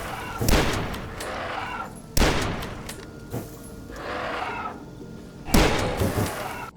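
Bone Monk fireballs striking the player in the video game Beneath Dusk: three heavy explosive bursts, each a sharp loud impact followed by a rumbling, crackling decay, spaced a couple of seconds apart with no talk.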